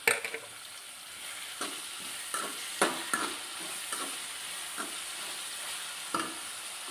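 Tomatoes frying with onions in a pan with a steady sizzle, broken by intermittent scraping and stirring knocks from a utensil.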